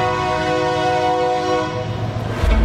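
A loud, sustained train horn blares with a steady multi-tone chord, then fades as a low rumble of the passing train rises at the end.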